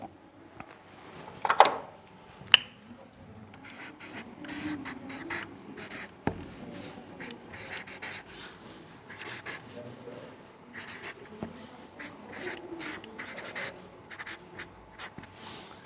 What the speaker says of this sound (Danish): hvis jeg skriver det op på tavlen